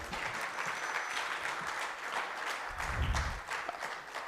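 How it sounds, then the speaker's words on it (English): A conference crowd applauds steadily throughout, a dense wash of many hands clapping at even volume. "Let us give them one more round of applause"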